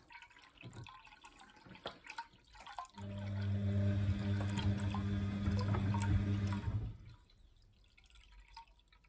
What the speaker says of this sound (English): when it starts or stops dripping like that, just put that plug back in